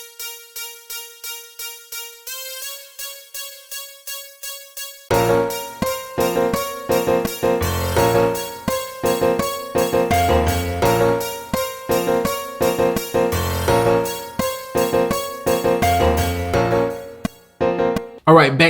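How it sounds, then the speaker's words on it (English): Wire Lead synth preset from the Expand plugin plays a bright, buzzy lead line alone for about five seconds, then a full beat with drums and bass kicks in beneath it. "This sound is called Wire Lead."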